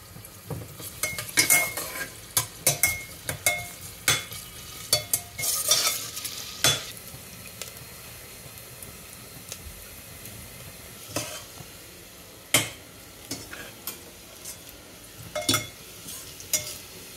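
Onions frying in ghee and oil for pulao, a continuous sizzle broken by repeated scraping and clinking of a spoon stirring the pan, close up, with quieter stretches between the bursts of stirring and no talking.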